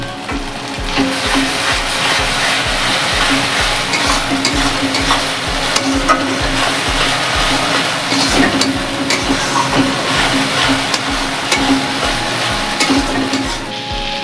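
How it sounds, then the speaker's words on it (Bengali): Ground paste of ginger and garlic stirred into frying onions in a pan, a constant sizzle with rhythmic scraping strokes of the spoon repeating through, close and steady with no talk. "পেঁয়াজটা আমার ভাজা হয়ে গেছে। এবার দিয়ে দেবো বেটে রাখা মশলাটা।"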